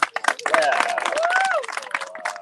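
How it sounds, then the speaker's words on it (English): Applause from a small group at a fire-making challenge, a few seconds of scattered clapping with voices and cheers talking over it, close and fairly loud. "round of applause as well deserved"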